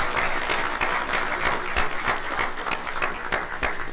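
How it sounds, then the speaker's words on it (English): Members and attendees at a school district board of trustees meeting break into steady applause after a motion passes. The clapping is even and sustained, with distinct individual claps ringing out close by throughout. "let's give a round of applause"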